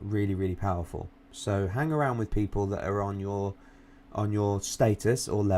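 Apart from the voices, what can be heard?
No everyday noise stands out behind the speech.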